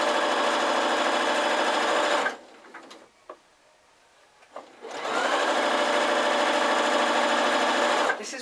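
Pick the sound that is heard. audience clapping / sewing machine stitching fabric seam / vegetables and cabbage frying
sewing machine stitching fabric seam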